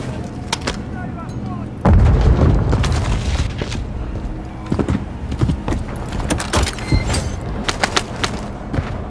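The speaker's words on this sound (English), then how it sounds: "Is a cruise missile usually necessary?" A cruise missile strike in Call of Duty: Modern Warfare 3 near an office tower: a heavy boom erupts suddenly, then a long rumbling roar with scattered sharp cracks and bursts, loud and close.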